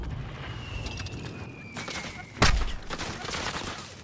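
Gunfire aimed at the player in a shooter video game: one sharp, loud shot stands out, with faint scattered distant shots and a thin whistling tone in the background.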